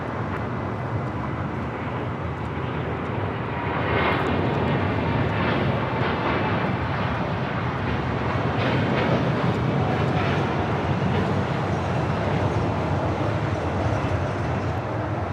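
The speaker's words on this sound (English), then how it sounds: "This is Air Premia 102 taking off to Seoul on a 787-9 Dreamliner" Air Premia Boeing 787-9 Dreamliner taking off from LAX, bound for Seoul: a steady broadband jet engine roar that swells louder about four seconds in and holds strong and continuous, heard from a distance with no talk over it.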